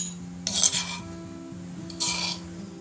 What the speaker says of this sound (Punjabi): ਜਿੰਨਾ ਹੋ ਸਕੇ ਤੁਸੀਂ ਕੁੰਡੇ ਵਿੱਚ ਇਸ ਚਟਨੀ ਨੂੰ ਰਗੜਿਆ ਕਰੋ